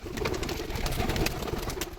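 Pigeons close by, giving soft calls amid rustling and a steady busy background noise.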